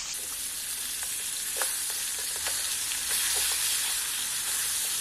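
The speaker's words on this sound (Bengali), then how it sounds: "আমি একটু উল্টে পাল্টে দিচ্ছি, কিন্তু মাছগুলো ভাজা হয়ে গেছে মাছের মাথাটা।" Catla fish head fries in hot oil with a dense, continuous sizzle, while a spatula turns it with occasional scraping clicks, close and loud throughout.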